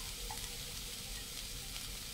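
Chopped raw onions with coriander and mint being stirred in a pan, a soft steady sizzle with faint scraping, heard alone and fairly quiet.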